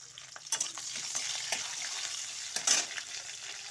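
Green chillies and bay leaf frying in hot oil with whole cinnamon and cloves for a jackfruit curry, a steady close sizzle with a few louder spattering bursts as the chillies hit the pan.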